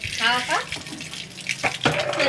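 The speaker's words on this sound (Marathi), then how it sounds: "पाणी बघा पाणी नळ चालू" Water runs from a tap in a short steady splash, fairly close, while people talk over it.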